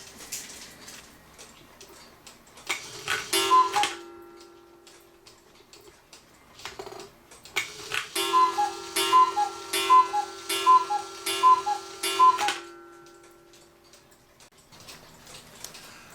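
Black Forest cuckoo clock with a J. Engstler movement, a steady regular ticking that stays clear and close, joined by two longer bursts of the cuckoo call with bellows tones, then ticking alone again.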